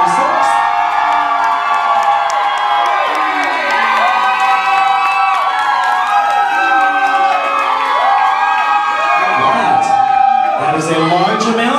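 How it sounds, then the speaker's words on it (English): A nightclub crowd at a drag lip sync battle cheers and screams loudly and continuously, high whoops and shrieks layered over one another with clapping mixed in. "That is a large amount of clapping and going on."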